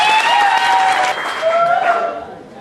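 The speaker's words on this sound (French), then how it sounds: "Et il faut applaudir Dieu pour cela." A crowd at a 25th-anniversary silver wedding celebration breaks into warm, sustained clapping close by, mixed with a singing or calling voice that fades as the applause tails off.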